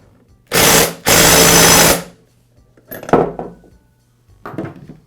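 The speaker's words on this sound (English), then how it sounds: "Again, I'll use my clutch removal tool, or in this case, installation tool, and an impact." An impact wrench drives a Poulan chainsaw clutch into place with a clutch installation tool: two loud, close, rattling bursts back to back, followed by lighter metallic clanks and handling noise.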